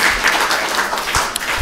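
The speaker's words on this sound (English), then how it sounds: "So perhaps a bit of a clap." A church congregation at a contemporary service breaks into a short burst of applause, dense steady clapping from many hands lasting under two seconds.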